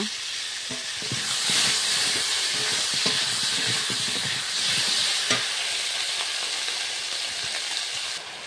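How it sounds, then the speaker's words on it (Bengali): Ginger paste hits chopped tomatoes in a hot pan, giving a loud, continuous sizzle and steamy hiss with scattered scraping clicks of stirring, swelling slightly midway and holding to the end. "টমেটো কুচিটা নাড়াচাড়া করে নিয়ে এবার দিয়ে দেবো আদা বাটা"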